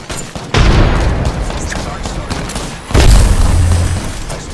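A frag grenade going off in the video game Apex Legends: two loud, booming blasts about two seconds apart, each followed by a rumbling tail, with no talk over them.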